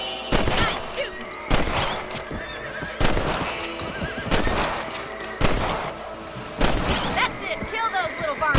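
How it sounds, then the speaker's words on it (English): Gunfire in the Red Dead Redemption video game during a rabbit hunt, with about six sharp loud shots at regular intervals, each followed by ringing decay, over horse whinnies and hoofbeats. "You're better at shooting rabbits than outlaws, I see."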